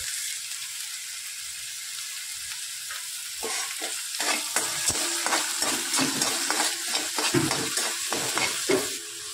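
Tomato and onion softening in hot oil in a pan, a quiet sizzle that turns into a run of brisk rhythmic scraping stirs from a spatula, close and clear, no voices.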